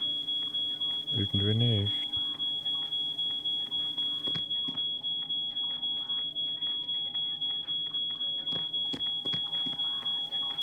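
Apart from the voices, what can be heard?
alarm beeping in the escape game She Could Fly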